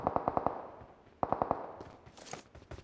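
Two quick bursts of automatic gunfire from a video game shooter, each a rapid string of about five sharp shots, separated by a short pause, with scattered game noises trailing after.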